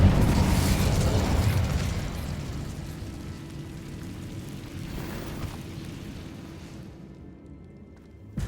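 The Incendio fire spell in Hogwarts Legacy erupts in a loud whooshing burst of flame, then fades into a rumbling, crackling tail before cutting off, with no voice over it.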